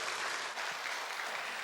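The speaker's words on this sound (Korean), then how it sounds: "우리 하나님께 큰 영광의 박수 올려드리겠습니다" Applause from a church congregation during a Tuesday evangelism service, a steady dense patter of many hands clapping throughout, moderately distant and fairly quiet.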